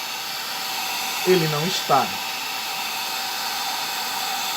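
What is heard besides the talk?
hair dryer blowing on paint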